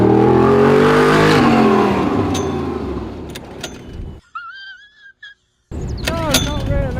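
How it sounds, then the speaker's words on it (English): Car engine revs loudly during extreme handbrake testing, a strong rising roar that fades and drops out, followed by a brief renewed rev, with people talking and shouting over it. "Let's do extreme handbrake testing."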